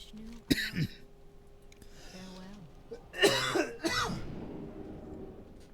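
A person coughs and clears their throat close to the microphone, with a few separate hoarse bursts and rasping throat-clearing sounds spread over several seconds in an otherwise quiet room.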